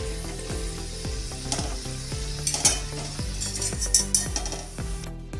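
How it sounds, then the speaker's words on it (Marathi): Udid vadas frying in hot oil give a steady sizzle with a run of clinking scrapes and taps as they are turned and lifted, fairly close, with no voices. "आपले वडे छान तळून झालेले आहेत"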